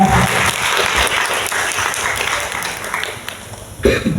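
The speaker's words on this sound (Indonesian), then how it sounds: "Boleh tepuk tangannya dulu teman-teman." A discussion audience at a book talk on Palestine applauding to welcome a lawyer speaker, a dense, steady round of clapping from a room of people that fades slightly toward the end.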